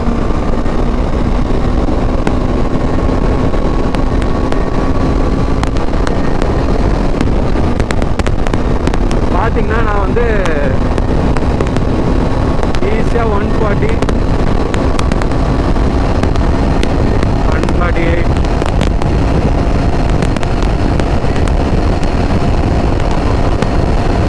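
A KTM 390 Adventure motorcycle engine drones and pulls steadily upward in pitch as the bike gains speed, heard from the rider's position beneath constant heavy wind buffeting.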